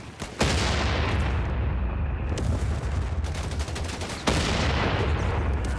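Stummel barrage from Company of Heroes 3: dense, continuous rolling gunfire with sharp cracks throughout, a loud burst opening and another strong double hit near the end, no talk.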